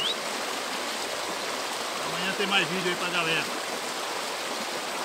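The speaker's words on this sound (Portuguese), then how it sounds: "Olha como é que tá aí, olha. Chuva. Muita chuva, menino." Heavy rain falls in the interior of Pará near Tomé-Açu, a steady broadband hiss that fills the whole clip while someone speaks briefly over it.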